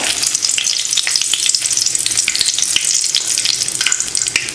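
Curry leaves hitting hot oil just after fenugreek seeds have spluttered, for a Tamil bottle gourd curry tempering: a loud, dense, continuous sizzle with crackling pops throughout.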